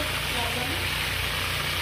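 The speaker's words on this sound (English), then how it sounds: "As you can see, my chicken, they are frying now." Chicken pieces frying in a pan, turned partway through cooking, give a steady, close, continuous sizzle and crackle that holds at an even level throughout.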